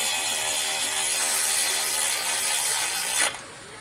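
A ratchet snugging down a brake bolt on a Volkswagen Tiguan front brake job, giving a steady close-up run of fast clicking for about three seconds before a short sharp scrape and stop.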